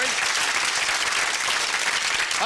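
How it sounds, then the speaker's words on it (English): Audience applause on a 1997 episode of the British game show Whittle, a steady dense wash of clapping from the studio crowd throughout, loud and continuous, with a voice faintly rising near the end. "Give her a big round of applause."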